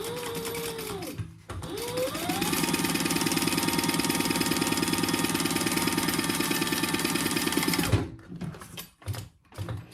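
A sewing machine stitches the bottom of a crossbody bag in a rapid, even mechanical whir: a short burst, a pause, then a long sustained run of about six seconds before it stops, followed by faint handling clatter.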